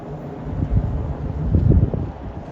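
Gusty southwest wind in New England rumbles across the microphone, swelling and easing in uneven bursts, strongest toward the end, with no one speaking.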